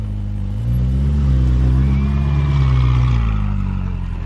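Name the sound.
supercar engine revving as he drives it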